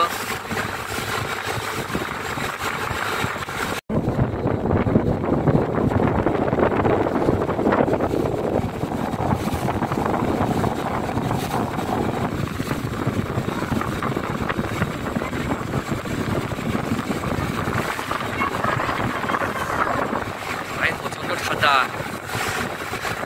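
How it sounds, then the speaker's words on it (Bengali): Strong, cold wind roars across the microphone on a boat on a river in the Sundarbans near Jharkhali. The steady gusting fills the whole clip, with engine drone and a voice faintly under it. "খুব জোর হাওয়া চলছে"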